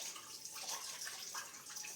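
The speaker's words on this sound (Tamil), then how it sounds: "வெறும் சட்டியை அடுப்பில் வைக்காம கொஞ்சம் தண்ணியை நாங்கள் விடுவோம்" Water runs and splashes softly into an empty pot set on a stove, poured for making rice porridge, a faint continuous trickle with no voices.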